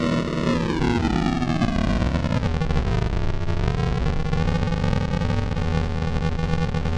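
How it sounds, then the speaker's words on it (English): A bit crusher lowering the sample rate on a reverb tail produces a gritty, distorted ambient tone with harsh metallic overtones that sweep down and back up, steady and alone. "Now that bit crush sound is going to be reverberating through the reverb."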